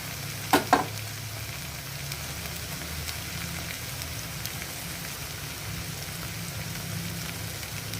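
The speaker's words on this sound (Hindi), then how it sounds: "मिक्स करेंगे और दोबारा ऑयल सेपरेट होने तक और टमाटो पूरी तरह से मशी होने तक इसको भूनेंगे ढक के" Masala with tomatoes and cumin powder fries in oil under a lid for Lahori chicken, giving a steady, soft sizzle with two brief clinks near the start and no talk.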